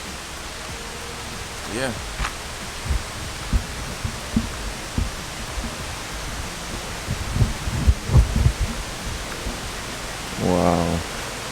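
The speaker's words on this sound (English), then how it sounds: "I can hear the falls already." Reach Falls waterfall in Jamaica gives a steady broadband rush of water in the background, with footsteps and short bursts of voices over it.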